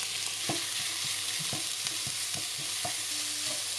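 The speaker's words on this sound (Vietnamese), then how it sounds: "Sau khi hành thơm mình cho thịt xào trước." Meat and minced shallots stir-fried in hot oil: a steady, close sizzle broken by regular scraping strokes of a utensil stirring the pan, with no talking.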